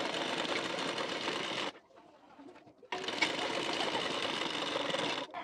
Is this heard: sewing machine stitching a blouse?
yes